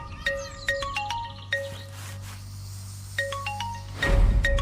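A mobile phone ringtone plays a bright, chiming melody of clustered tones. It repeats after a short pause, fairly close and clear, then ends in a closer rustling bump.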